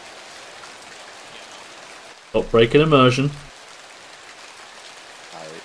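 Steady rain patters on a soldier's helmet in the Arma 3 military shooter, a constant hiss throughout while someone speaks briefly in the middle.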